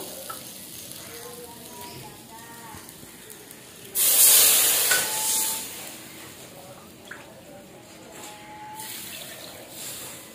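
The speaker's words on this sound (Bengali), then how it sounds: "এখন আমি জল দিয়ে দেবো" Water goes into a hot cooking pan of spiced tarka, a sudden loud hissing sizzle that flares for about a second, then settles into a softer, steady bubbling hiss.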